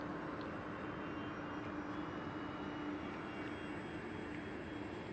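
A 1.2 m Horizon Hobby Spitfire RC model airplane flying under power, a steady distant engine drone holding evenly throughout.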